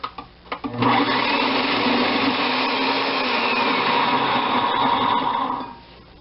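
A food processor slicing onion for a vegetable tian, with a few knocks first and then a loud, steady motor whir that runs several seconds before winding down.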